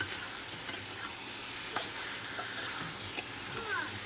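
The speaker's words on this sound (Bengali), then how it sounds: "কি সুন্দর তরকারিটা ফুটছে, দেখো কষাই হচ্ছে তো এখানে।" A papaya vegetable curry sautés and simmers in a pan with a steady, close sizzle, and a few soft stirring taps and clicks sound over it.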